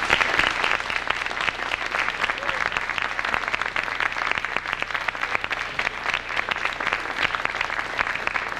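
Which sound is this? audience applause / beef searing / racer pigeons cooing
audience applause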